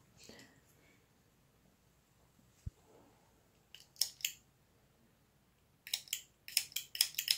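Scissors snipping crochet yarn in a quiet room: a couple of isolated crisp cuts, then a quick run of close, sharp snips near the end.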